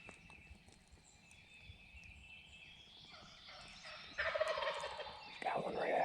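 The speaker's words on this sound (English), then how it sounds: "He's gobbling right at her." Wild turkey gobbling during a Missouri spring hunt, a distant, faint tom sounding off among trees in the woods, with louder rustling and movement close by toward the end.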